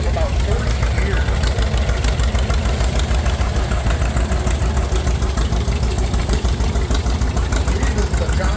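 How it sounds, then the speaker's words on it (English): A John Deere D tractor engine idles nearby at a steam power show in Sycamore, Illinois, with a constant, slightly knocking chug. Someone talks over it. "Here is John Deere D. This is one of the most successful tractors."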